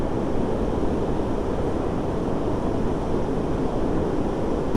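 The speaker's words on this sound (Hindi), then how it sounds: "हाईवे में ये पानी बह रहा है ग्लेशियर से" Glacier meltwater rushes across a highway on the Delhi to Ladakh route, a loud, steady broadband roar of flowing water. Wind noise buffets the microphone throughout and there is no talk.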